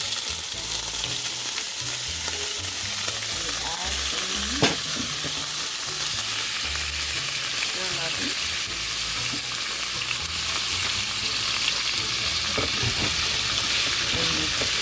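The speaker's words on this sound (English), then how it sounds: "now it's time to brown it" Conch browns in a pan with Scotch bonnet, crushed red pepper and crushed garlic, giving a continuous close sizzle with light stirring and a few utensil clicks throughout.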